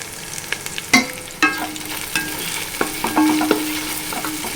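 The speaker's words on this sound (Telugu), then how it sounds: "ఇప్పుడు మూత తీసి కలుపుకోవాలండి" Chicken biryani masala stirred in a pot for Karnataka-style Dhonne biryani, with a steady sizzle under scraping and a couple of sharp metallic clinks from the spoon against the pot.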